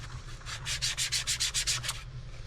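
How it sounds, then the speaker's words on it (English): Model car paint, Rustoleum 2X furniture paint, wet sanded with 2000 grit sandpaper: about ten quick rhythmic rasping strokes close up, over a low steady background hum, with no talking. "We're going to try to sand this down and get it smooth."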